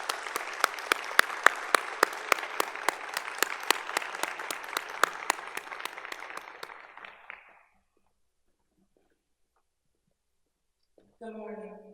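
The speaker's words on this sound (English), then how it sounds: "Can you please give her a round of applause as she comes forward?" Steady clapping from an audience at a forum event for about seven seconds, fading out, followed by silence and then a voice starting to speak.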